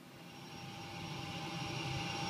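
The engine sound of a Boeing 737 in the ProSim737 flight simulator fades in from quieter to louder as a steady, broad jet roar with faint tonal whines on top.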